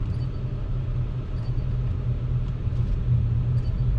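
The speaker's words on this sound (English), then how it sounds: "So we're in drive. We're pulling out." A 2021 Acura TLX Type S pulling away in drive, heard from inside the cabin as a steady low engine and road rumble, even and moderately loud with no talk.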